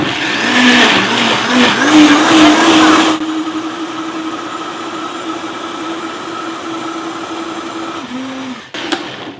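A blender whirs loudly at high speed while mixing a green smoothie, its steady motor roar surging and shifting pitch at first, then settling into a constant drone before cutting off near the end, with a brief clatter afterward.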